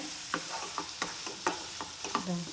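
Soya chunks dry roasting in a pan, with a run of regular scraping stirs every half second or so over a soft, steady sizzle, close and moderately loud.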